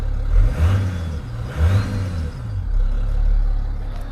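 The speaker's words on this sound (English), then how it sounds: "as you can tell, we've got a nice running engine." A car engine runs after air has been bled from its cooling system, idling loud and close with a steady drone that rises in two brief revs before settling into an even hum.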